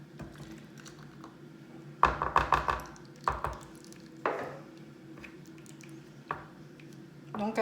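A spatula folds pistachio cream into a ganache in a bowl, producing sporadic close, soft squishing and scraping strokes separated by quieter gaps.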